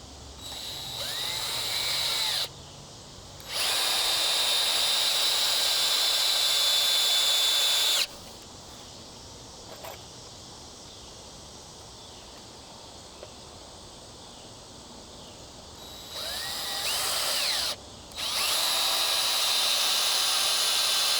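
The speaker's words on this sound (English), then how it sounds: "I'm using my drill" A power drill whines steadily in two long runs separated by a quiet gap, then spins up again in shorter bursts near the end.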